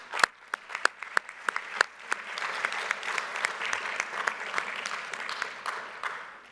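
Audience applause at a bank's annual general meeting, a steady wash of many hands clapping with sharp individual claps standing out, filling the hall throughout without speech.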